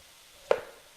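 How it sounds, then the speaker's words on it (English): A single knife chop through an onion on a cutting board, one sharp close thud in an otherwise quiet kitchen. "I'm going to chop up the onion"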